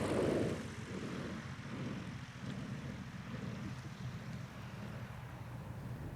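A propeller bush plane carrying a raft and gear arrives over the Alaskan wilderness with a steady, fairly distant engine drone that holds evenly throughout.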